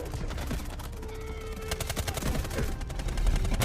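Rapid gunfire in the Delta Force Mobile shooter, a continuous stream of sharp bursts and close shots layered over a busy in-game battle mix, fairly steady in loudness throughout.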